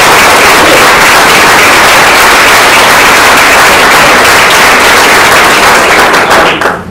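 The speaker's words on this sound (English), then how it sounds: "Let's give them a round of applause." Sustained applause from a crowd at a pancake breakfast event, steady and loud throughout before fading slightly at the end, with no talk over it.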